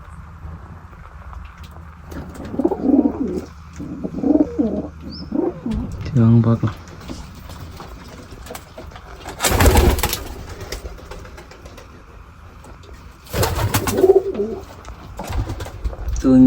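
Pigeons coo softly inside a cage during cage cleaning, with repeated low coos and bird calls coming and going beneath someone speaking, along with a few louder rustling bursts.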